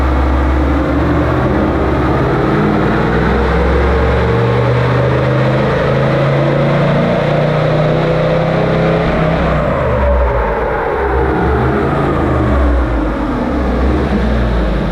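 Toyota Landcruiser 79 Series fitted with a Gturbo G420 turbo, engine revving hard and steadily for the whole stretch with a rising and falling pitch sweep partway through, loud and close with no talking.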